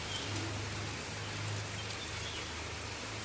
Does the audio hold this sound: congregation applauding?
no